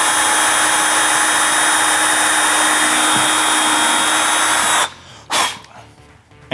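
A power drill with a bit pre-drilling a pilot hole through wood so the screw will not split it, a loud steady high whine that runs nearly five seconds, then cuts off with a brief burst after.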